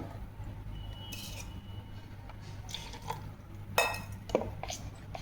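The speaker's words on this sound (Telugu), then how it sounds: "చాలా నీట్గా కలపాలండి. ఎంత సాఫ్ట్ కలిపితే అంత బాగా వస్తుంది కేకు." Quiet, intermittent scraping and clinking of a utensil against a bowl while mixing cake batter, a few short strokes with a louder knock near the end.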